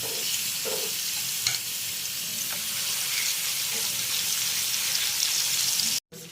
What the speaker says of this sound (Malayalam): ബാക്കി ഇറച്ചിയും കൂടെ അതിനകത്തേക്ക് ഇട്ട് വറക്കാം.